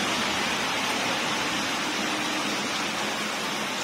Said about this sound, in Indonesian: Ini terjadi hujan, teman-teman.